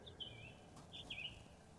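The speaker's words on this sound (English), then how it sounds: "Chirping." Birds chirp faintly in a quiet setting, two short clusters of high tweets, one near the start and another just after midway, thin and somewhat distant.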